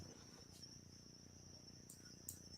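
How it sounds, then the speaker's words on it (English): Crickets chirp outside at night in a steady high, thin trill, faint and continuous with small pulses, over a quiet background hum and no talking. "I am outside, and those are crickets."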